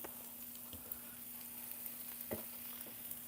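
Meatball soup ingredients sizzle steadily in a hot pan in a home kitchen, a soft continuous crackle with occasional louder pops, no talking.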